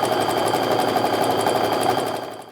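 A sewing machine stitches quilt strips together for a bargello quilt, a steady, close, rapid mechanical hum that runs evenly before winding down at the end, with no voices.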